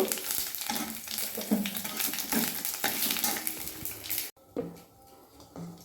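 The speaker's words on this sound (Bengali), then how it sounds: "লবঙ্গ দারচিনি আর হাফ চা হাফ চামচের অল্প অল্প জিরে ফোড়নটা ভেজে নেব" Cloves, cinnamon, cardamom and cumin seeds crackle and sizzle in hot oil for mung dal kalia, a busy close frying sound that drops off sharply near the end, leaving quieter clinks.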